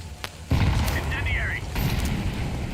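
A grenade explodes in a video game as one sudden deep boom, followed by a rumbling decay and a rising whine, with a voice talking over it.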